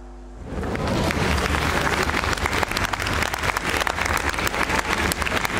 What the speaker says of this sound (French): Vous allez vraiment applaudir ça.